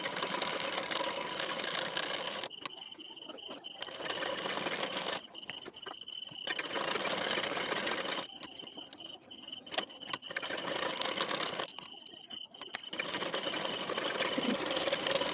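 Sewing machine stitching blouse fabric, a steady close mechanical whirring in several runs of a few seconds each, separated by short quiet stops.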